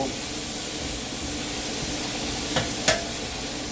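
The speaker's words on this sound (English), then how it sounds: "this will deglaze the pan too" Water is poured into a hot pan to deglaze it while pork chops and beans cook, giving a steady close hiss and sizzle with two brief sharper spurts near the end and no talking.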